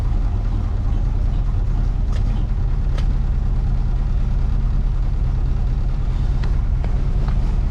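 Ford Edsel car engine idling at low RPM with low oil pressure, a steady low rumble running continuously and close by, with a few faint clicks on top.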